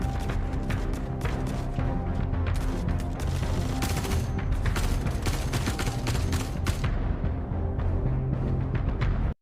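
Rapid, steady gunfire from the video game Star Citizen, a dense continuous volley of shots with sharp crackling bursts layered over a constant low rumble, loud and close throughout without pause.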